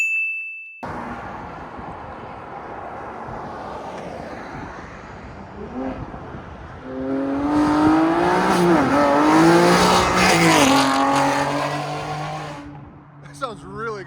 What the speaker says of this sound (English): He's gonna come back by, he's gonna do a drive-by for you guys.